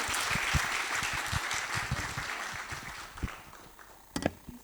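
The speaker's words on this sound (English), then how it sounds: "a huge round of applause for our panelists, please, and the organizers." A room full of people applauds for panelists at a faculty retreat panel on AI and the future of work, a dense clatter of claps that gradually thins out over several seconds.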